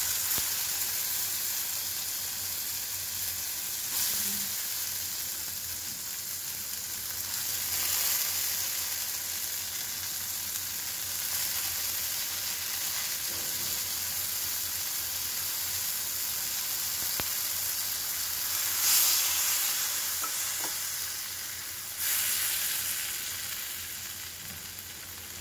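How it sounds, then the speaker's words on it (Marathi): Cooked sprouted moth beans fry in oil in a pan, giving a steady, moderately loud sizzle with faint scraping stirs throughout. "आणि ही शिजवलेली मटकी मोड आलेली ही आपण परतून घ्यायची आहे तेलावर"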